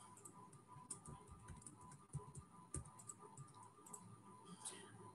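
Quiet, close-miked tapping on a computer keyboard as a password is entered, with irregular soft key clicks and a few sharper taps over a low background hum.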